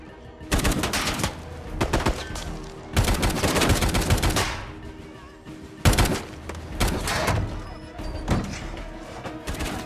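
A police SWAT shootout in a TV action drama, with loud, close automatic gunfire in dense rattling bursts and short gaps between volleys.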